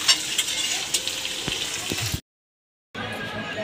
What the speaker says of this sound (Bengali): মশলাটাতে খুব সুন্দর তেল ছেড়ে দিয়েছি, এবারে মাটনটা দিয়ে দেবো।